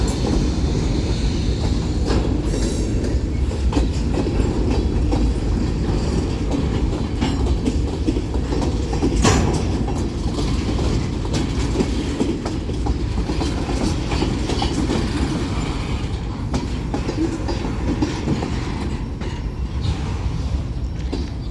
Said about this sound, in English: There goes train number 4 of today in Metairie.